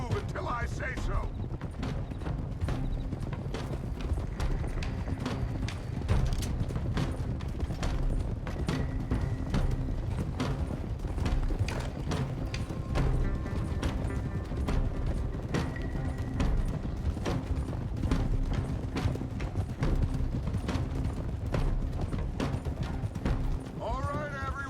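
Several horses ridden in Red Dead Redemption 2, a steady, busy clip-clop of hooves running throughout, with voices talking over it and occasional distant booms.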